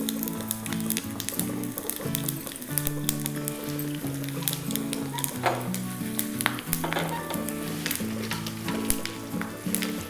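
Cumin, urad dal, chana dal and garlic crackle in hot oil for a tempering, a bright, busy sizzle with popping spatters and stirring, up close with no talk, while a tonal melody plays underneath.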